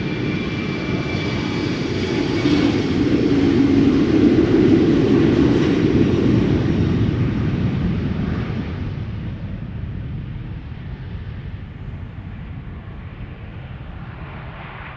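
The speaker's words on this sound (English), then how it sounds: "I am going to try to film the back-to-back arrivals of the KLM Orange Pride being preceded by the Surinam A340" An airliner arrives on the center runway at Amsterdam Schiphol, one of a back-to-back pair of a Surinam A340 and the KLM Orange Pride, its engine noise swelling to a deep, loud roar and then fading slowly as it passes.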